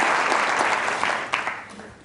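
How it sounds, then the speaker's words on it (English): A crowd claps enthusiastically, dense applause that gradually thins and fades over a couple of seconds. "Give them a round of applause"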